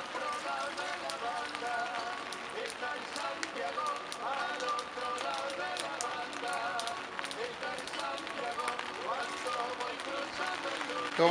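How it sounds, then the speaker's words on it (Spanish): Rain falls steadily outdoors during cooking, a dense continuous patter of drops on surfaces that stays loud and even throughout, with no clear talking over it. "Lamentablemente empezó a llover"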